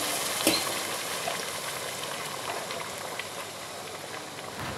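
Hot water is poured over frying pulao rice, producing a dense, steady sizzling and bubbling boil throughout, close and moderately loud, with no talking.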